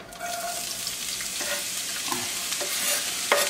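Vegetables sizzle and fry in avocado oil in a pan, with steady crackling and a few stirring scrapes and clicks throughout. Nobody speaks.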